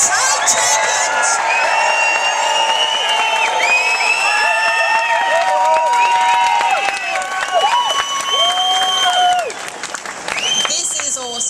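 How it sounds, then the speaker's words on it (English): A large outdoor rally crowd at Martin Place in Sydney applauds and cheers loudly and steadily, with whoops and shouted voices rising through the dense clapping, which thins slightly near the end. "how about a big round of applause for these girls and guys who organised this?"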